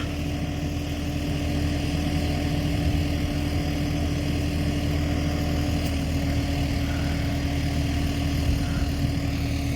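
A tractor engine runs steadily during sunflower sowing in a field, a continuous low rumbling drone at constant load with no pauses or talking.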